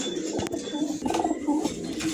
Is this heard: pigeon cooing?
yes